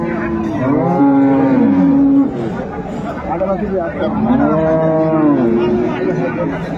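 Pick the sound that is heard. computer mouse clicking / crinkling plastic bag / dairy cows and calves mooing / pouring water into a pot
dairy cows and calves mooing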